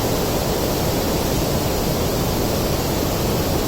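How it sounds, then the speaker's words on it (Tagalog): Lulugayan Falls in Calbiga, Western Samar roars in a dense, unbroken wash of falling water, loud and steady throughout with no voices over it. "Napakalawak talaga ang falls na ito."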